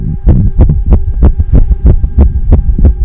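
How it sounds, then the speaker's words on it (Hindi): Fast heartbeat sound effect from a horror story, a steady run of deep, loud double thumps about every third of a second over a low hum, with no talk. "उसका दिल अचानक से बहुत तेजी से धड़कने लगा"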